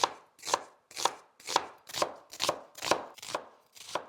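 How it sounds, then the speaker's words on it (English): A knife slices through an onion on a cutting board, about nine evenly spaced crisp chops in a steady rhythm, close and clear with nothing else heard. "now we're going to slice the onion along the grain"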